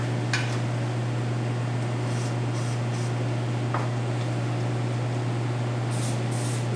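WD-40 penetrating oil sprayed onto the four wheel bearing bolts of a Dodge Journey during front wheel bearing replacement, a steady hiss over a constant low hum, with a couple of brief faint spurts and no talking.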